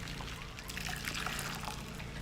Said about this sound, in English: I am going to start by measuring my 3 cups of very hot water